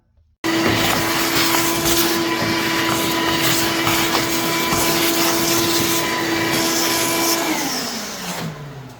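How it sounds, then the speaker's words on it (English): A shop vac switches on abruptly and runs with a loud, steady whine and rushing airflow, close by, then begins to wind down in pitch at the end. "One of my favorite tools in the shop is the shop vac."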